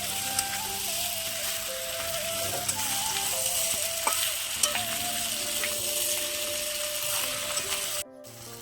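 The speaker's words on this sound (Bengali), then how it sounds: "আমি এবারে আলু আর গুগলিটা দিয়ে দিচ্ছি। এই যে দেখো এবারে কিন্তু অনেকক্ষণ থেকে এটা মাংসের মতো কষাতে হবে।" Potatoes and freshwater snails fry with spices in a pan, a loud, continuous sizzle broken by regular scrapes and taps as the mixture is stirred. The sound cuts out abruptly near the end.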